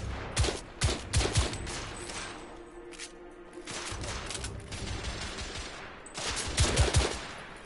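Loud bursts of rifle fire in the PS4 game The Order: 1886 crack out in clustered volleys at the start and near the end, with a rumbling, echoing lull of distant shots in between.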